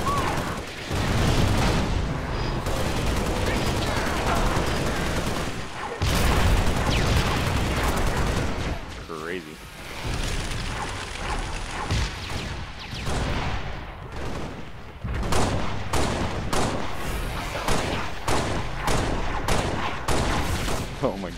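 Dense, rapid gunfire from Halo: Spartan Assault rattles almost nonstop in loud bursts, with short gaps and sharp repeated shots during frantic running and gunning.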